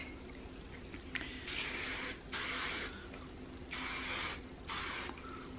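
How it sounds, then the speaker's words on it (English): Several hissing bursts of heat protectant hairspray sprayed onto hair, each lasting about half a second to a second, come close to the mic with short pauses between them. "take my Paul Mitchell hot off the press heat protectant hairspray and just spray this hair down"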